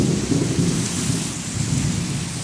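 Heavy rain pours down in Acapulco with thunder rumbling, a dense, loud, continuous roar of falling water with no voices.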